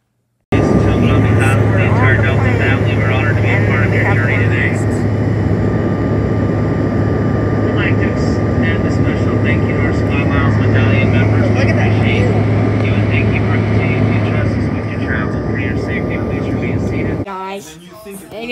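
Steady airplane cabin noise during flight, a loud, continuous broadband engine roar with a constant hum, droning unchanged for about seventeen seconds before cutting off at the end.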